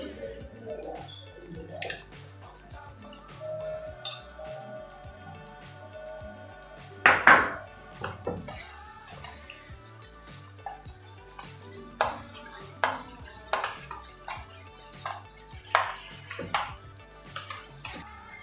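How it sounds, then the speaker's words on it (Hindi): Prepared jelly is spooned into a mango sago drink in a dish, giving soft, scattered clinks of utensil against dishware and small wet drips, close and intermittent over a quiet kitchen background. "इसमें जो हमने जेली बना के रखी है वो डाल देंगे।"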